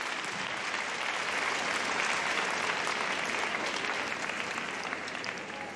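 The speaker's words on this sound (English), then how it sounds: "Nice round of applause to carry around." Steady crowd applause for an Irish Wolfhound at the Crufts 2019 hound group judging, a dense, even wash of many hands clapping throughout at a distance, with no speech.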